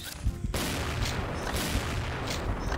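Gunfire in the shooter game XSHOT, a rapid volley of loud shots followed by repeated bursts and booming reports that fill the mix continuously.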